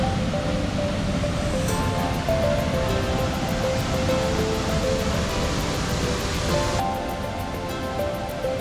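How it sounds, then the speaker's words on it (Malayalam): A waterfall in Munnar roars as a constant, loud rush of water, broad and steady throughout with no voices. "ഇപ്പോൾ ഒരു കിടിലം വെള്ളച്ചാട്ടമാണ് കേട്ടോ."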